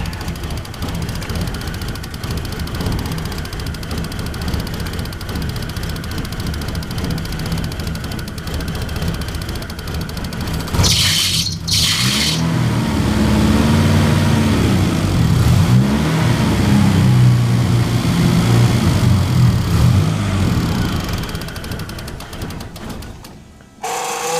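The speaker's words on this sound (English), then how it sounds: "Might need to adjust the idle a little bit." A 1987 Jeep Comanche engine idles roughly and steadily, then a sharp burst gives way to louder, deeper revving that swells and holds close by before cutting off abruptly near the end.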